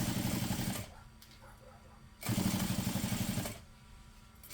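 Sewing machine top stitching 1/8 inch from the edge, down the open side and around a bag strap; two loud bursts of fast rhythmic needle chatter separated by a quieter pause.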